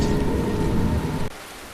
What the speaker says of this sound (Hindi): बिजली चमकी और मूसलाधार बारिश बरसने लगी